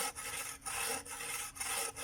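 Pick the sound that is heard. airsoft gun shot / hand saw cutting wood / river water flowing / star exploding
hand saw cutting wood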